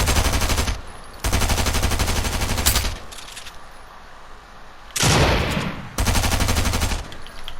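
Rapid SMG gunfire from a Raiders aim trainer video game, loud sustained automatic bursts separated by short pauses, with quieter shots in between.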